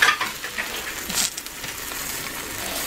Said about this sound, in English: Not whisk it, I'm turning the scrambled eggs